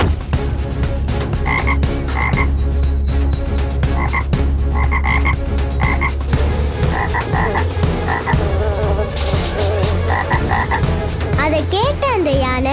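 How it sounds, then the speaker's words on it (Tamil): A chorus of frogs croaks steadily and loudly in repeated pulsing calls, layered over a constant low drone for the whole stretch. "தவளை கத்துற சத்தம் கேக்குது"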